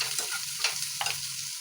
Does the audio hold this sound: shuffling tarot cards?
no